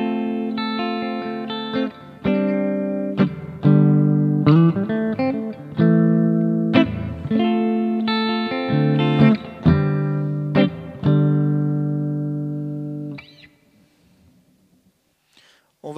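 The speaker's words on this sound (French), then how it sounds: "j'ai fait un son que j'appelle un son clean en rythmique. Donc avec juste une reverb et une équalisation." Boss GT Pro guitar effects processor set to a clean electric guitar rhythm tone with only reverb and EQ, strummed chords in a steady rhythm, loud and alone, ringing out into a reverb tail before falling quiet.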